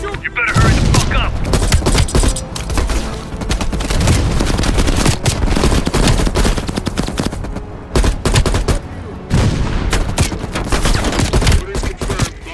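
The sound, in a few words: heavy machine gun fire in Call of Duty Black Ops Cold War video game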